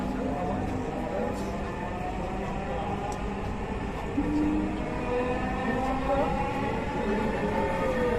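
A Dhaka metro rail train runs between stations bound for Agargaon, heard as a smooth rising electric whine over a steady low rumble, loud and close from inside the carriage, with a recorded announcement voice.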